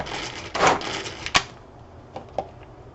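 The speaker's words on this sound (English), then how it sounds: "Give that another couple of pulls," Tupperware pull-cord chopper cutting cabbage for a sausage and white bean soup, giving a couple of short ratcheting whirs and a sharp clack, then a few quieter clicks as the container is shaken.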